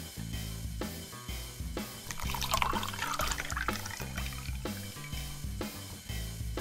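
Sapporo Black Label beer poured from a can into a mug, a gurgling liquid stream with fizzing foam building under soft background music, steady for several seconds and close by.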